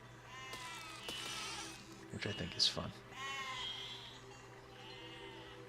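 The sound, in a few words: sheep bleating in the video game Besiege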